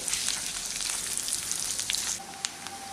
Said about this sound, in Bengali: পেঁয়াজটাকে আমি একটু হালকা বাদামি করে ভেজে নিচ্ছি